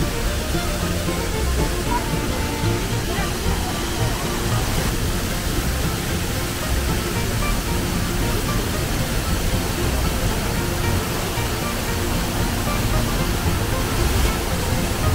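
Roaring waterfall at Gundichaghaghi in Keonjhar, in full monsoon flow with spray blowing on the wind, a loud, steady broadband rush that never lets up.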